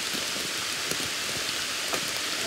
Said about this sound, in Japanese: うわぁ、雨がすげぇ。